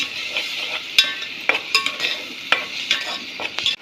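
A spoon stirs and scrapes green masala paste with fried onions around a frying pan, sharp clinks against the metal over a steady sizzle.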